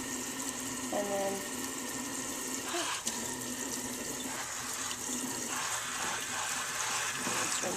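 Tap water runs steadily into a sink as a Roomba spinner brush is rinsed clean, with brief clatters and handling knocks over the continuous splashing flow; a voice is faintly present.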